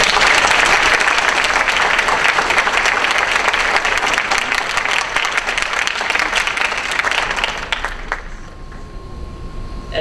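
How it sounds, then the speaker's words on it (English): A crowd at a school board meeting gives a loud, dense round of applause for high-achieving students; the clapping holds steady, then fades out over the last two seconds, leaving a faint tone. "Let's give them a round of applause."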